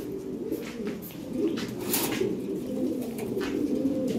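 Lahori pigeons, including lavender Lahori birds, cooing in a loft, with soft low repeated coos running steadily throughout, close by and moderately quiet, with faint rustling alongside.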